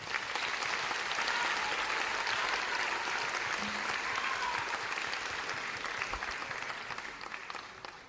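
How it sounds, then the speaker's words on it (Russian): Steady, dense audience applause after a jazz orchestra premiere at a centenary concert, loud and even before tapering slightly at the end. "Подарим ваши аплодисменты"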